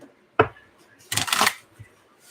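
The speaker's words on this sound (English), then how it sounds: "this will be our last shuffle." Tarot cards are shuffled close by in a few quick bursts, a short riffle, a longer rustling run and a soft tap, with quiet pauses between.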